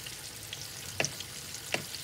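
Floured pork chops frying in a pan, a soft continuous sizzle with two brief sharp crackles, moderately close.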